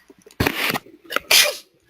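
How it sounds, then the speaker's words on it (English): A single sneeze bursts out loud and close during a software demonstration session, with a sharp intake and a second noisy burst, quiet room tone around it. "excuse me, I had to sneeze."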